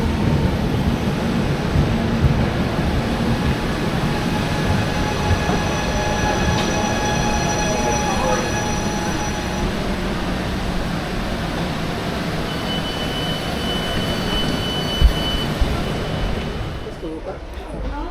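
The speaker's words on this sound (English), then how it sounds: "And we get the Salerno train." A Salerno train arrives at the station with a loud rumbling roll, screeching wheel squeals and metallic clatter building over many seconds, with voices faintly under the noise.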